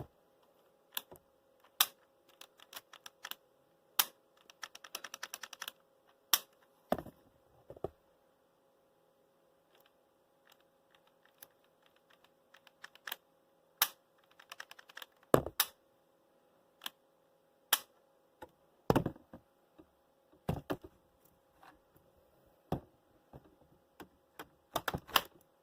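Lego M4 carbine toy gun, built as a 9mm on the AR platform, fired in a series of sharp, close plastic clicks and snaps at irregular intervals, some in quick bursts, with quiet gaps between and no talking.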